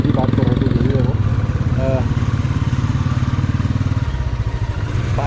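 A motorcycle rides a slushy, muddy dirt road on the mountain route from Manali to Rohtang Pass, its engine chugging steadily and loudly throughout while the bike slips in the mud.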